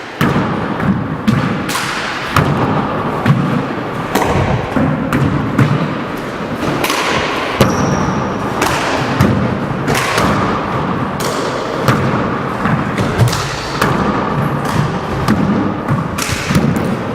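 Handball struck hard in a four-wall court during a pro match, a series of sharp thuds and wall slaps ringing out over a constant crowd hum, with a faint high squeak of shoes midway.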